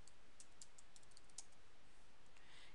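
Faint clicks of someone typing a short search into a computer keyboard, a handful of light keystrokes spread over the first half of a quiet stretch of room hiss.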